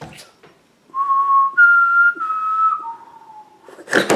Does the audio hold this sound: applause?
no